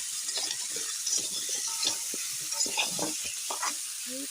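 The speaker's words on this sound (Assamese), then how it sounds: "চব্জিখিনি ভালকৈ ভাজি লৈছোঁ, ভাজা হৈছে" Pumpkin pieces with potatoes stir-fry in a pan, giving a steady close sizzle with repeated scraping strokes of a stirring utensil and no talking.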